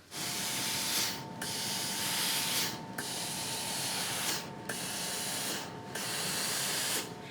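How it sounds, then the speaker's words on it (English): A steam iron pressing quilt fabric seams gives a broad continuous hissing rush, loud and close, cut by four brief pauses as the iron lifts and sets down again. "Just get that nice and flat before the iron gets on it."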